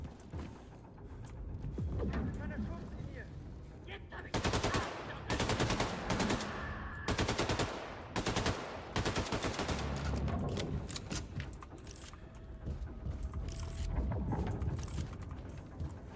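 Submachine guns firing in the shooter Wolfenstein II: The New Colossus, with loud rapid bursts of automatic fire, several stretches of fast repeated shots amid chaotic combat noise.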